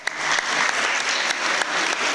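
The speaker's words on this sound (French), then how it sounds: "je vous demanderai aussi d'applaudir" An audience at a school World Poetry Day celebration applauds steadily, a dense, even wash of many hands clapping close by for about two seconds with no talk.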